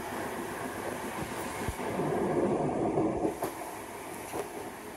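An Elizabeth line train rolls into Liverpool Street station in London, a steady rumble of wheels and carriage noise with faint clicks along the rails, heard from inside the carriage without talk.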